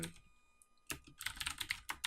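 Rapid typing on a computer keyboard, a quiet pause and then a dense burst of clicky keystrokes close by, with no voices.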